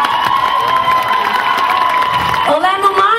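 An audience at an anniversary stage show applauds and cheers, mixed with music or tonal sound and shouting, with a shift in the sound near the end.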